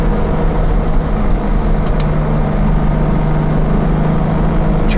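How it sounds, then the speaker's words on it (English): A 1964 Jaguar E-Type Series I Coupe with freshly rebuilt suspension, driving along in fourth gear, its engine giving a steady, loud, even drone with road noise throughout and no voices. "The car runs beautifully."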